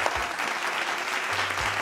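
Applause from a studio audience after a singing performance on a television show: a short, dense burst of clapping, steady and close, with faint voices mixed in.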